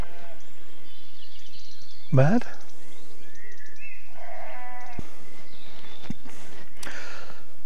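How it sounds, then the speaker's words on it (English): Sheep bleat in a field at sunset near a church, a few loud cries rising over steady outdoor background noise, with someone talking briefly. "The sheep are going absolutely bonkers around here."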